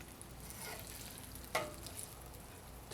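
Sausage and bacon sizzle softly on a griddle during a keto breakfast, a quiet steady frying crackle with a brief scrape or clatter partway through.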